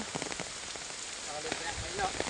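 The Maoyon River runs high with a strong current, making a dense, continuous rushing wash of water that sounds close and fairly loud throughout.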